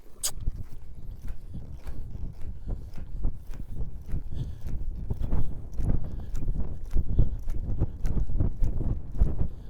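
Hooves clop steadily on the ground as a horse walks close by, a continuous thudding rhythm with no talking.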